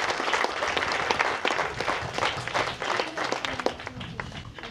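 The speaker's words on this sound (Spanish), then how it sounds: "Brindemos fuertes aplausos a don Mario Coy." Audience applause at a community ceremony in Guatemala for a mechanical well, steady clapping from a crowd sustained throughout, moderately loud and close, tapering slightly near the end.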